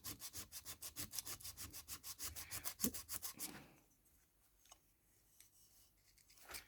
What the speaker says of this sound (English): just sanding from the item towards the middle of the Milliput